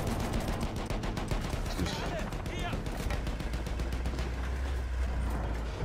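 Rapid gunfire in Battlefield 1 crackles steadily through the whole stretch, dense automatic bursts at moderate distance with a low rumble beneath and a brief spoken word.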